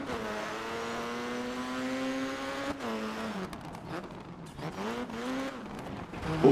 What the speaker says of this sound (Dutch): Het voelt lekker om natuurlijk die motor gewoon in je oren te horen.